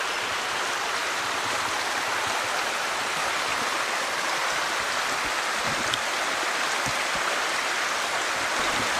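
Waterfalls in a stone gorge at Watkins Glen State Park send up a steady, dense roar of rushing water, loud and unbroken throughout with no voices.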